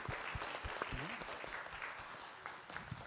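An audience at a film festival closing night applauds, a full burst of clapping with a brief voice rising through it near the start.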